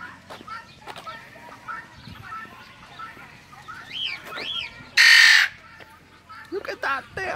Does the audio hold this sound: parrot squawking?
yes